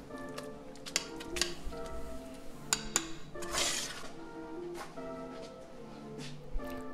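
A spoon clinking against a dish while mashing beans for a meatless burrito filling, with irregular close taps and clinks over soft scraping.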